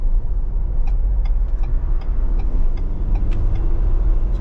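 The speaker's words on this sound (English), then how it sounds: "Turbo spools right away if you're getting around traffic." A Ford Bronco's turbocharged engine hums steadily from inside the cabin, a constant mid-level drone with road noise and faint ticking, with no voices.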